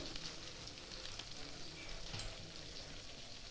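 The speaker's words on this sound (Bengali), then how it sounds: "সব দিয়ে আমি ভালো করে আবার কষিয়ে নেব" Chicken bhuna fries with spices and red chili powder in a pan over medium-low flame, a steady soft sizzle with light stirring, fairly quiet and continuous, no talk.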